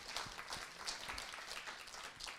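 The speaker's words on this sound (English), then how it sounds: "let's give them a round of applause" Quiet, distant audience applause for a panel at a DNS cybersecurity forum in a conference hall, a soft steady patter of clapping without speech.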